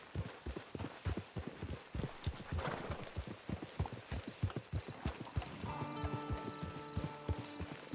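Steady rhythmic clip-clop of horse hooves in Red Dead Online, close and moderately loud, continuing throughout, with a tonal musical note entering near the end.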